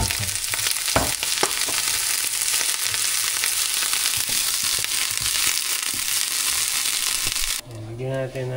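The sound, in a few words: food roasting in a pan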